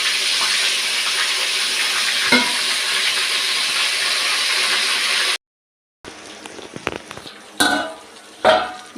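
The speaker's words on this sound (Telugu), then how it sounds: "ఇప్పుడు ఈ వంకాయలన్నీ కూడా చక్కగా ఇలా ఆయిల్లోనే మగ్గనిద్దాము." Stuffed eggplants soften in hot oil in a pan, giving a steady bright sizzle for several seconds, then a brief cut and quieter sizzling broken by a few clinks and stirring knocks.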